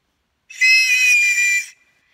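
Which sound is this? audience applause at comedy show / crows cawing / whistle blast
whistle blast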